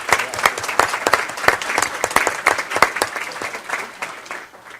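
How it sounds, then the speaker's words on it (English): Audience at a State of the State luncheon claps steadily in a dense round of applause that holds throughout and tapers slightly at the end, close and fairly loud, with no talk over it. "Can we give them a quick round of applause?"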